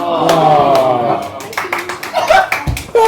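A burst of audience clapping at a stand-up comedy show, loud and dense, with voices talking and laughing over it as the applause thins out.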